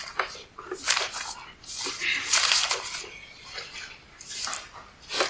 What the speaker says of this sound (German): muss ich ein bisschen blättern